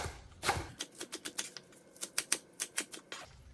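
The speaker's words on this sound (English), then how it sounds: "I'm gonna cut it bigger piece, slightly bigger piece." A knife chops green onions into slightly bigger pieces on a cutting board, giving a quick run of about fifteen crisp, evenly spaced taps, faint and alone.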